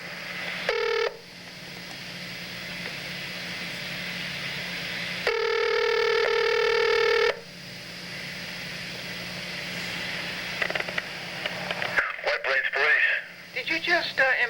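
Telephone keypad tones from a call placed to the White Plains Police, sounding as two short bursts of dialing beeps over a steady electrical hum, followed by muffled phone-line noise.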